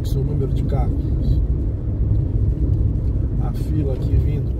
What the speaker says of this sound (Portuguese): Fluxo, o número de carros,